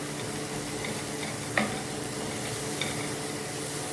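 Mutton curry with turmeric, coriander powder and salt stirred in a frying pan, a steady soft sizzle throughout with one sharp utensil clink midway and a fainter tap later.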